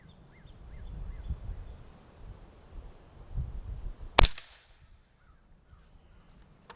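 A Walther Reign air rifle fires a single Crosman 14.3-grain domed pellet, one sharp loud crack with a quick decaying tail, preceded and followed by quiet low room rumble and no talking.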